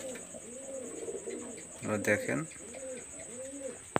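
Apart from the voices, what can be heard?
pigeons cooing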